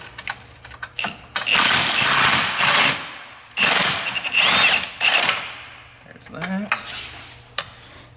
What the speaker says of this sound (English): Move the wrench over to the other side.